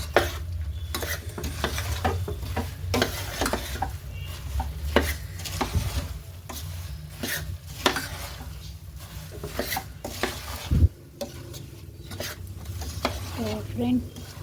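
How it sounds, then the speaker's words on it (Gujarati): A spoon stirs and scrapes powdered sugar through edible gum in a cooking pan, producing steady, repeated scraping strokes with brief louder clacks against the pan. "આપણે ખાંડ દરેલી એડ કરી છે. તો બસ હલાવી જવાનું."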